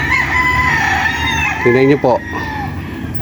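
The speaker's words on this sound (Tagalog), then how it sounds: "Ito po yung ibang mga manok nila dito." At MGM Game Farm, chickens cluck and roosters crow nearby, one clear crow standing out over a steady barnyard din, while someone speaks briefly.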